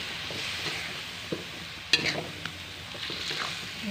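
Beef for empal, a Semarang-style dish, sizzling and frying in a pan with spices, with soft stirring scrapes and a few louder clinks at the pan, steady moderate crackle throughout.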